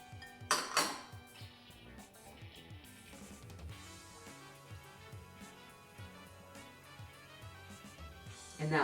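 A spoon stirring salt, pepper and white vinegar for tzatziki sauce in a bowl: soft clinks and scrapes against the dish, with a louder tap near the start, then quieter steady stirring.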